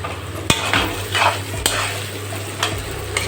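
Marinated chicken frying in a hot pan as it is stirred, a steady sizzle broken by a few sharp scrapes and clinks of the spoon against the pan, close and loud, with no talking.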